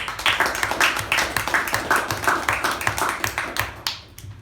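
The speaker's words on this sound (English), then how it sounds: "So a big round of applause to the evaluator and the speaker." A small group at a Toastmasters meeting gives a round of applause for an evaluator and speaker, distinct separate claps in a loose rhythm, close and fairly sparse, fading out at the end.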